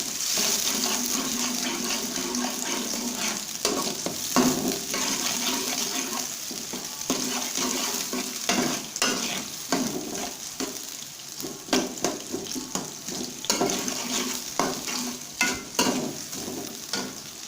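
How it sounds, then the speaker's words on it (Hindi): Onions fry in hot ghee for a karela dal dish, giving a close, continuous sizzle with regular scraping stir strokes. Toward the end the stirring becomes choppier, with sharper bursts. "घी हमारा गर्म हो चुका है, अभी हम इसके अंदर प्याज डालेंगे। इसको मिक्स करेंगे।"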